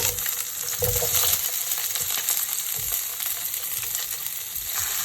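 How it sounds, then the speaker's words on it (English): Dry chili, garlic and green peppers stir-fried in a hot wok, a loud, steady sizzle filling the whole stretch, broken by soft scraping of the stirring tool. "Add green peppers."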